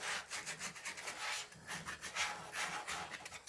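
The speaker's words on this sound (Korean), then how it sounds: "모서리 사포질 해주시고" Close, rhythmic rasping of sandpaper rubbed back and forth along the wooden edges of a passive speaker being built, in quick, even strokes.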